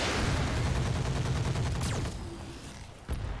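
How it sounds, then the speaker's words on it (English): Mech weapons unloading all at once in the video game Roguetech, a dense continuous barrage of loud gunfire and blasts that rumbles on for several seconds, then tails off with a final thump and no talking. "I'm going to fire everything."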